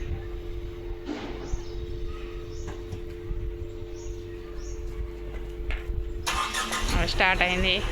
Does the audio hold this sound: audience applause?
no